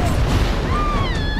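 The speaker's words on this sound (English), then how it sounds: "Oh, that thing about to blow up." A loud explosion in the video game Max Payne 3, heard as a dense, sustained rumbling roar that fills the whole short moment with no pause.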